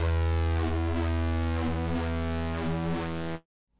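Synth tone processed through a Kilohearts Multipass plugin with LFO automation, a sustained buzzy harmonic drone whose filter sweeps rhythmically up and down before stopping abruptly.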